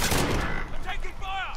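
Gunfire in a multiplayer shooter video game: a loud, dense burst of shots at the start gives way to scattered reports, with voices talking and shouting underneath.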